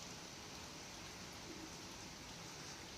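Steady rain falls outdoors under a cloudy sky, a soft, even hiss of drops that stays faint and unchanging with no one talking.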